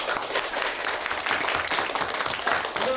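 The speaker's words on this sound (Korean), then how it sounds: "자, 마지막은 박수로, 고생한 여러분들 위한 박수로 마무리하도록 하겠습니다." Applause at the close of a children's software camp, a dense, lively burst of many hands clapping that stays loud and even throughout.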